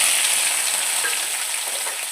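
Onions with cinnamon, clove, bay leaf and cumin sizzle steadily in hot oil in a kadai, a close, continuous hiss with no talking.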